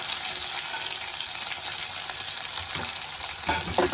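Onions and green chillies fry in oil with a dense, even sizzle, and brief stirring scrapes come near the end, with no voices.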